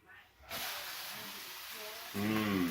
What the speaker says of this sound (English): Sizzle. If you can hear that, that's exactly what you want to hear.